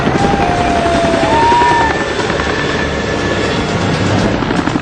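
A navy helicopter hovers over a burning 22-storey commercial building in Mumbai, its rotor and engine roar loud and constant, with a few thin whining tones drifting over it.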